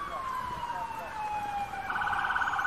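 An ambulance siren wails steadily as it arrives at a Trenton police medical emergency, a long tone sliding slowly downward and swelling louder toward the end.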